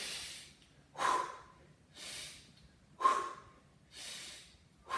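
Heavy rhythmic breathing during a leg-straightening workout exercise, about five loud close breaths in a steady in-and-out pattern of roughly one per second, with no talking.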